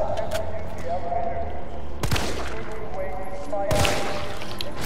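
Two sharp, loud gunshots about two seconds apart in the video game Resident Evil 3 Remake, over a steady hum of game ambience and music.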